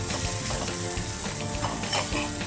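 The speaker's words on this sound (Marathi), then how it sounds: "अजून आपण 1 ते 2 मिनिट त्याला असंच परतून घेऊया, थोडंसं फ्राय करूया" Garlic and green chillies fry in a pan with a dense, steady sizzle that crackles continuously and evenly from start to finish, close and loud, with no voices.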